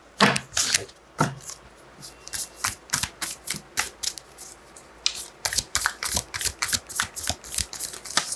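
Tarot cards being shuffled by hand: a long series of quick crisp riffling and slapping bursts, close and clear, irregular at first then settling into a steady rapid rhythm, with no talk.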